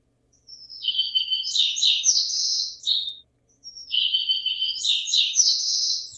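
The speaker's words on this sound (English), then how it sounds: "we need birds chirping peacefully" Peaceful AI-generated birdsong, two bright chirping, trilling phrases of about three seconds each, separated by a brief silence, clear and close against a quiet background.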